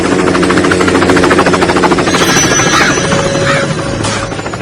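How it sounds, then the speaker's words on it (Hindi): A loud, continuous rhythmic chopping and whine of a helicopter fills the scene close overhead, fading slightly toward the end. "अपने गांव में हेलीकॉप्टर क्यों आया है?"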